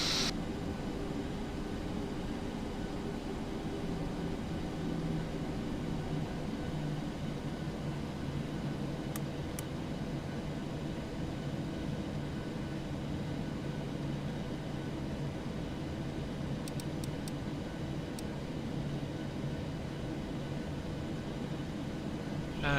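Steady cabin drone of a Ryanair Boeing 737-800 preparing for takeoff from Manchester to Prague, a constant loud engine and airflow hum without talk and only a few faint clicks.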